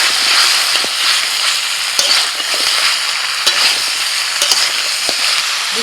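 Chopped green chillies and coriander stems frying in oil in a pan, a loud, dense crackling sizzle throughout with sharp pops and stirring scrapes.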